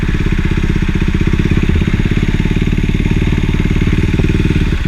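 A KTM Duke 390 single-cylinder motorcycle engine revs hard close by, a loud rapid pulsing bark that rises as it accelerates, with no talking.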